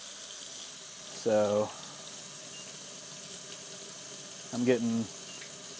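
Hot water runs steadily from an RV faucet fed by a Furrion tankless water heater in a 2021 Forest River trailer, a constant hiss lasting throughout while someone speaks briefly twice over it.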